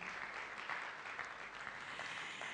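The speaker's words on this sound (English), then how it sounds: "a round of applause for Indomie." Audience applause at the Indomie hero awards ceremony in Nigeria, a dense, steady wash of many hands clapping together, moderately loud and continuous with no voices over it.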